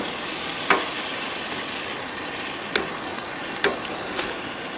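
Gumbo sizzles steadily in a pot over a campfire while camping, a continuous soft frying hiss broken by a few sharp clicks and scrapes of stirring.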